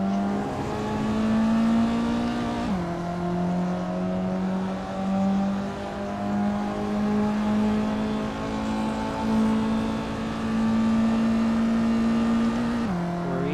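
Race cars circling a track at a night race meeting, a black Mazda MX-5 among them, with one engine droning loudly and steadily and its pitch shifting with gear changes, up close and without voices.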